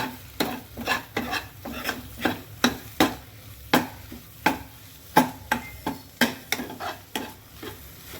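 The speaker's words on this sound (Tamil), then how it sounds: "முட்டையை இந்த மாதிரி நல்லா கிண்டி விடணும்" Egg bhurji being stirred in a frying pan: a steady run of quick, close scraping strokes against the pan, about two a second, over a soft continuous sizzle.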